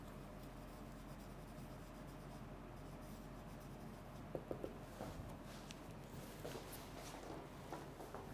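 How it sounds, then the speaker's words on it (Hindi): A marker or chalk writes on a board during a lecture, soft scratchy strokes and a few taps in short irregular bursts, faint against a quiet room. "मैं लिख भी देता हूँ आपके लिए इसको"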